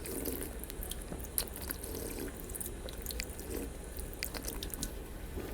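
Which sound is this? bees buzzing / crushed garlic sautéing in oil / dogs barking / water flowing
water flowing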